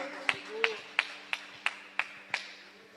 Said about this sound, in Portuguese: Aplauda o nome do Senhor, Jesus, nessa noite.